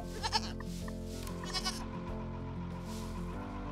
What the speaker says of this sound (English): Oh, here it comes, our goats.